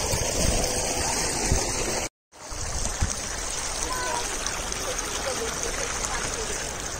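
Water gushes steadily from a tubewell beside paddy fields, a loud, continuous broadband rush that cuts out briefly and resumes, with people talking over it.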